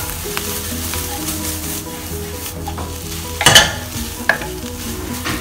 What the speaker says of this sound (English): And then we add in the crab meat. Give them a good stir around.